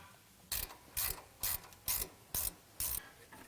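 Hand ratchet clicking as it turns out a 12mm bolt on a truck's spindle to free the ABS bracket, six evenly spaced bursts of rapid metallic clicks, close and fairly quiet, no voices.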